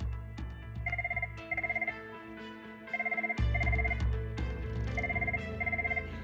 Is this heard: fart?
no